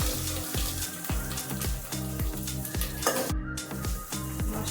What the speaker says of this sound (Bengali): পাকা টমেটো দেবো, এবার একটু মশলাটা কষে নেবো।